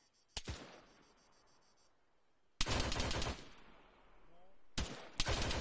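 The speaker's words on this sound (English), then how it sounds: "Yeah, they're firing." Sharp bursts of enemy gunfire in Arma 3: a single crack, then a long loud volley and two more short bursts, separated by quieter ambient stretches.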